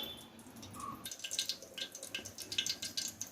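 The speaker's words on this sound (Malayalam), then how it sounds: "ഈ വെളിച്ചെണ്ണയിൽ കുറച്ചും കൂടിയും ഒഴിച്ചു കൊടുക്കണം" Coconut oil pours into a cooking pan with a faint, close trickling and soft dripping patter that grows slightly busier after the first second.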